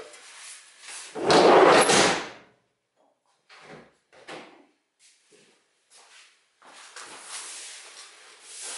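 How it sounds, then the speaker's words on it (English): Sliding door of a 1973 VW campervan being refitted during restoration, one loud rolling slide and thud near the start, followed by a few softer clicks, knocks and a final scraping rattle. "reattach the sliding door, get that on and make sure that I'm happy with the gaps and the profiles"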